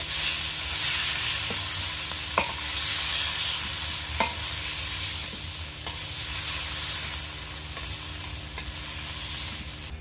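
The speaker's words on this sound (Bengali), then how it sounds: "এবার আমি এই ল্যাঠা মাছগুলো ভেজে নেব" Lata fish frying in a pan give off a steady, dense sizzle throughout, broken by occasional soft taps and clicks as the pieces are moved around.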